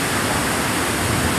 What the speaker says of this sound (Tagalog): Tinakayan Falls